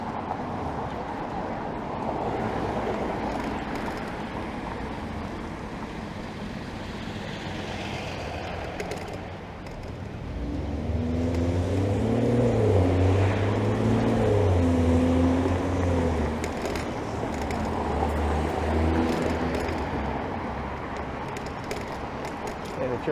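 Traffic on busy Bathurst Street, an arterial road in Toronto, rumbles past as a steady roar, with a louder heavy vehicle swelling up midway, heard from a moving e-bike.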